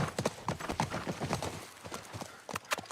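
Horse hooves clip-clopping in The Last of Us Part 1 video game, a steady rhythmic trot of soft thuds on the ground, fairly close and moderately quiet, continuing throughout with no talk over it.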